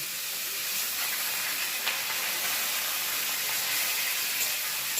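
Grated, salted ash gourd being stirred in a hot pan, with a steady close hiss and sizzle of steam and faint scraping running through, and no talking.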